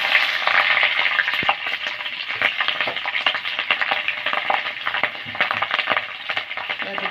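Potatoes frying in a nigella seed tempering give a loud, dense, steady sizzle close up, with faint crackles running through it and no voices.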